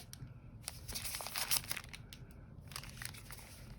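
Foil trading card packs from a box of 2023 Miraculous Ladybug cards are shuffled by hand, giving a run of crisp crinkling and rustling bursts, close and fairly quiet.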